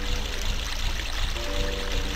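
A rushing waterfall in the video game Ocarina of Time roars steadily and loud, a dense continuous splash with a faint tonal game hum underneath and no voices.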